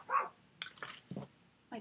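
A dog gives one short, muffled bark indoors, followed by a few faint scuffling and handling noises.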